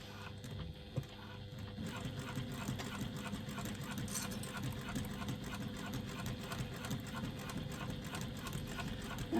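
A sewing machine runs steadily, top stitching a leather strap for a clutch with a continuous fast rattling hum at moderate loudness and no pauses.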